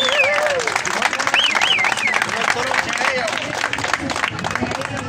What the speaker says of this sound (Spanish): Fuerte aplauso para el campeón.